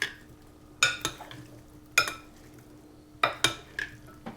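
A shrimp salad is tossed with a mustard-free vinaigrette, with a utensil clinking and scraping against a bowl in a few sharp, irregular taps between quieter stretches.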